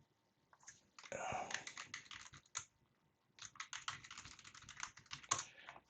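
Someone types a terminal command on a computer keyboard: two quick runs of soft, close key clicks with a short pause between them, faint overall.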